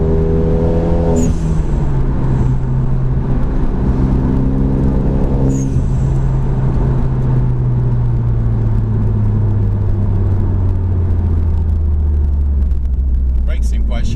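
Renault Megane RS 250 Cup Lux Edition tuned to 310 bhp pulls hard on boost, its engine note rising steadily through the revs as a loud continuous drone heard from inside the car, with a brief gear-change dip early on.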